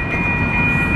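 A train rumbles past a crosswalk at close range, a loud, steady low roar with a high metallic whine running over it.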